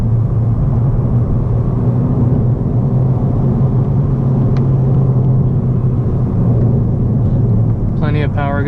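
A 2017 Honda Civic Si four-door climbs a hill on a test drive, its engine and road noise forming a loud, steady low drone throughout, with a brief voice near the end.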